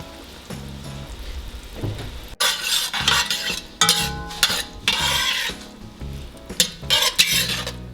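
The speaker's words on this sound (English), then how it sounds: "we're gonna add our butter, and I'm gonna turn up the heat just for a quick saute" Butter and corn sizzling in a pan turned up to high heat for a quick sauté, crackling frying hiss in bursts with the clatter and scrape of stirring against the pan.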